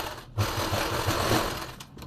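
A sewing machine runs a short continuous burst stitching a second seam on a pleated suit, close and steady with a fast rhythmic hum, no voices.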